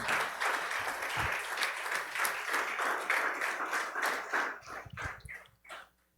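A church congregation claps for the Lord during a sermon, steady crowd applause that fades near the end, with a few scattered claps trailing off.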